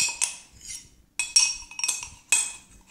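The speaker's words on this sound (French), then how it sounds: "Moi la mienne a collé au verre, c'est pour ça que je suis en train de me battre avec le contenant et je mélange." A metal spoon scraping and tapping inside a glass container while mixing baking powder for pancakes: a few bright, clinking strokes spaced irregularly, close and fairly quiet.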